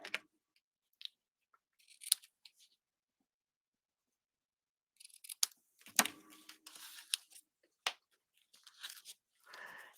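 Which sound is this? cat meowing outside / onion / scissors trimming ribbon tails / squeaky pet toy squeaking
scissors trimming ribbon tails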